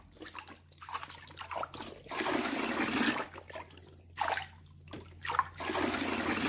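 Water splashing and running in a bathtub while a dog is bathed, arriving in irregular bursts of gushing and sloshing between quieter dripping gaps.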